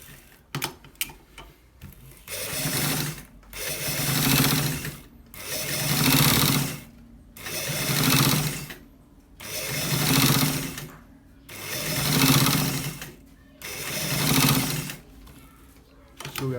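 A sewing machine stitches a white fabric double collar in steady bursts. About seven loud whirring runs are separated by short pauses, with light handling clicks at the start.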